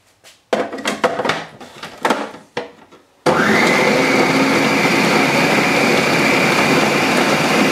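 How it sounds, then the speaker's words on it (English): A food processor whirs loudly and steadily, blending a garlic sausage meat mixture into a smooth puree, preceded by a few clattering handling and lid sounds before the motor starts. "placing this meat mixture into the food processor and blend it until we get to almost like a meat puree"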